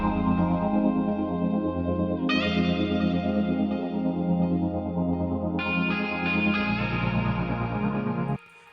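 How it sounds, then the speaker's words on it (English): Sustained chordal synth pad muffled by a low-pass filter so it sounds submerged and underwater, steady and alone with a washy, echoing tail, cutting off near the end. "Basically sounds like this pad is now underwater."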